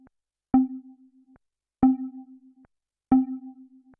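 A synthesizer lead patch whose filter envelope shapes each attack sounds three times in a row: a sharp bright transient settling into a steady low tone, each note held about a second with short gaps between.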